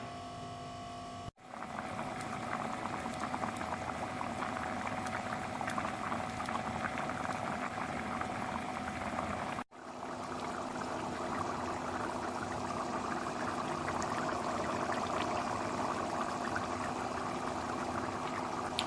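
Steady, close bubbling of a pot of lentils and water on the boil, a continuous dense simmer with two brief dropouts, no voices.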